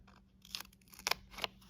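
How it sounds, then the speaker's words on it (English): Three short crunchy snips of scissors cutting through craft foam, spaced irregularly over a quiet background. "And I'm gonna cut a foam square in half"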